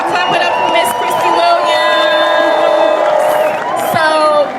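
A crowd claps, whoops and cheers loudly after a talk on reparations, with shouting voices layered over steady applause throughout.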